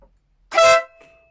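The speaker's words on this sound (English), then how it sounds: "So we'll just have to press the horn." A Denali SoundBomb horn fitted to a Triumph Tiger 800 motorcycle gives one loud, sustained air-horn-style blast of about a third of a second, alone and close, with a faint trailing ring afterwards.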